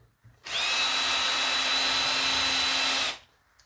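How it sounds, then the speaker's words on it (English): A power drill backs screws out of heavy industrial aluminium scrap, giving one loud, close, sustained whine that starts abruptly and cuts off after about two and a half seconds. "we'll start taking a few screws out here"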